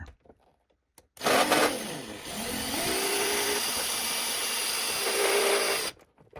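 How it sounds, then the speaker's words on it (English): A power drill whirs loudly for several seconds, its pitch shifting as it bites through a Darth Vader helmet, then stops abruptly; brief quiet before and after. "I think I'm going to have to drill through"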